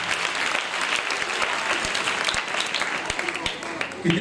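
A crowd claps loudly and steadily in sustained applause, many hands together filling the room.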